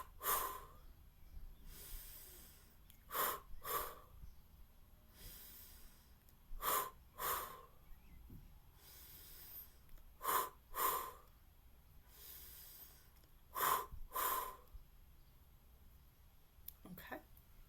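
Slow, deep breaths drawn in and then released through the nose during a live group voice and stuttering exercise: about a dozen soft, evenly paced breaths with quiet pauses between them.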